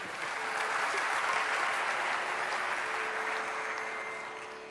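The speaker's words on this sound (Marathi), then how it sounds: "याच्यासाठी सुद्धा टाळ्या द्या." Sustained audience applause at a live Marathi classical vocal concert, steady dense clapping from a sizable crowd that swells and then slowly fades.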